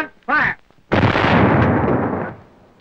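A 75mm pack howitzer fires a single loud, booming shot that rolls away over about two seconds, preceded by a short shouted command.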